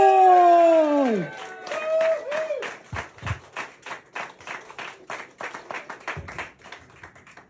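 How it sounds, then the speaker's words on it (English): At a stand-up comedy gig, a small audience claps in loose, uneven bursts with some scattered cheers after a performer's loud shouted introduction, the clapping rising and falling rather than forming a steady roar. "Start cheering and start clapping all the way from the UK."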